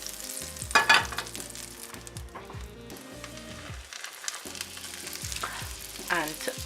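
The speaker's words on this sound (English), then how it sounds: "Add a little bit of butter, about a teaspoon or a little bit more than that. Swirl it around." Butter sizzles in a hot skillet as it is swirled around, a steady crackling fry with a few louder bursts of spatter, close by and alone with no talk over it.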